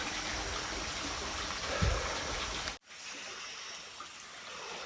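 A jungle river in Vietnam flows with a steady broadband rush of water, fairly faint and continuous, briefly dipping partway through before resuming.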